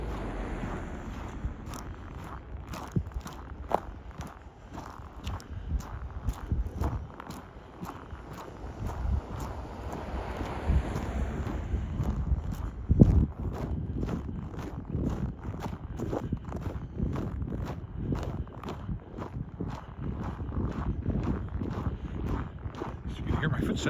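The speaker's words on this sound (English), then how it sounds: "So you can hear my footsteps crunching a little bit." Footsteps crunch steadily on a pre-dawn winter walk along a creek, a soft continuous rhythm of steps with some wind rumble and someone talking over them now and then.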